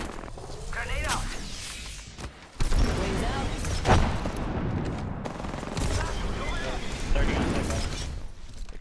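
A grenade goes off in a Valkyrie match of a shooter game, a sharp loud blast near the middle amid ongoing gunfire and game noise, with players talking.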